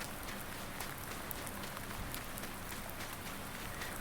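Steady rain falls on a farm in a survival farming game, a soft continuous patter with scattered drops, even in level and heard alone with no talk.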